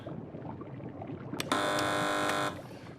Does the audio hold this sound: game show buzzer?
yes